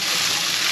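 Chopped onions hitting a hot frying pan beside cooked shrimp, giving a loud, steady hiss of sizzling oil close up, brief and uninterrupted.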